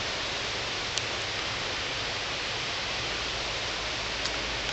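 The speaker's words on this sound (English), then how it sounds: "I'm listening to the waterfall and looking to the east." A waterfall near a cottage gives a steady, dense roar of rushing water, loud and unbroken throughout, with no voices.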